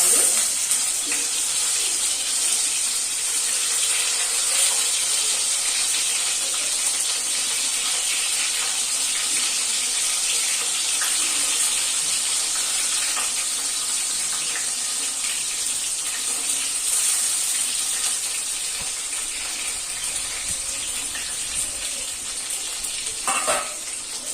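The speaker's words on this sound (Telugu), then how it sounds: "ఒక్కొక్కటిగా ఇలా వంకాయ తీసేసుకొని ఆయిల్లో వేసేసుకోవాలి" Brinjal pieces fry in hot oil with cumin, giving a loud, continuous, hissing sizzle that lasts throughout.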